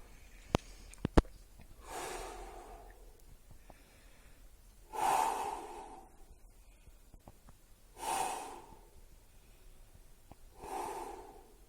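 Slow, controlled breaths during a lower-body home workout, several long audible inhales and exhales spaced a few seconds apart, close and fairly loud, with a couple of sharp clicks early on and no speech.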